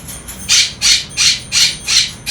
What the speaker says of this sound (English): I guess I'll just let the bird have a fit.